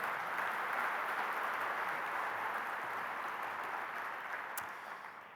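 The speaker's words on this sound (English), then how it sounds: "yes, clap for that" Audience applause at a 2013 convention, steady broadband clapping sustained for about five seconds before tapering slightly at the end, heard alone without talk.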